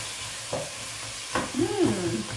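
Canned corn cooking in butter in a pot: soft sizzling with a few stirring scrapes and a brief bubbling burst, fairly quiet and close, with no talking.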